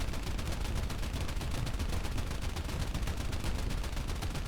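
Rapid continuous machine-gun fire from a tank in the War Thunder video game, a dense unbroken rattle of shots throughout, loud and close with no speech.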